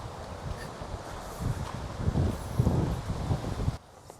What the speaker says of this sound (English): But it's pretty windy, so pretty choppy